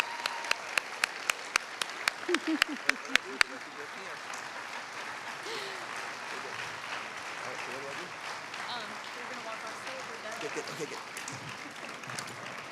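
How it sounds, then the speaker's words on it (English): An audience at an environmental justice talk by Van Jones breaks into sustained applause, a dense wash of clapping with a few sharp individual claps early on, and voices murmur underneath. "Another round of applause for Van Jones."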